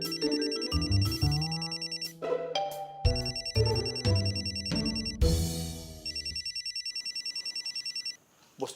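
A telephone rings in an indoor scene, its electronic ringtone trilling in a repeated pattern, loud and close, with musical tones woven around it.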